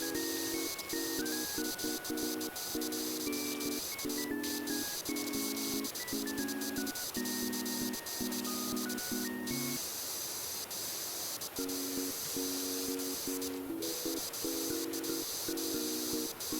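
A pressure washer sprays steadily in the video game PowerWash Simulator, giving a constant loud hiss over melodic background music with no talk.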